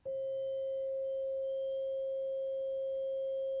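A steady, pure FM tone from an analogue synth, tuned in octaves, holds on one pitch with faint higher partials blending in, sounding like a single sustained note, alone and unchanging.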